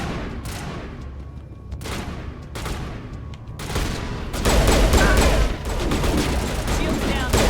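Video game gunfire in Mass Effect: scattered sharp shots at first, then a loud sustained burst of rapid fire with booms, with talking partly under it.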